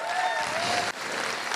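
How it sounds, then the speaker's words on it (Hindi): Audience applause in a hall, a dense steady wash of clapping that runs continuously, briefly dips, then carries on. "मैं चाहूँगा सर के लिए भी जोरदार ताली होनी चाहिए।"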